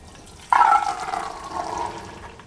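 Water from a pot of boiled black chickpeas pours out in a sudden splashing gush, loud and close at first, then trickling off and fading over a couple of seconds.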